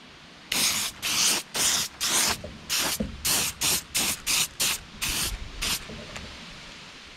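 An aerosol spray lays down the final coat of paint on a bluegill replica fish mount, in about a dozen short, even hissing bursts separated by brief pauses, close and steady, with no voices.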